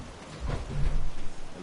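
Rain falls steadily in the Fallout 4 video game's Nuka-World DLC, a soft, even hiss with a low rumble swelling partway through.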